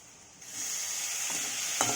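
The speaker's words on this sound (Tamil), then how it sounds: "இப்போ ரெண்டையும் ஆட் பண்ணி வதக்குங்க." Onion and tomato being sautéed together in a pan, a steady close sizzling hiss with occasional stirring scrapes, no talk.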